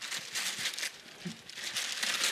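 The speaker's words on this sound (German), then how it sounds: "Pack doch gleich mal auf. Hier ist die Schere." A taped Christmas parcel is unwrapped, with continuous close crinkling and rustling of packaging paper and a few brief tearing bursts. The sound is loud and steady and there is no speech.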